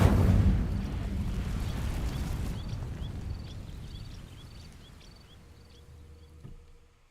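The Incendio fire spell in Hogwarts Legacy ignites dry vines with a loud whooshing burst that flares, then crackles and fades over several seconds, joined by faint chiming sparkle tones.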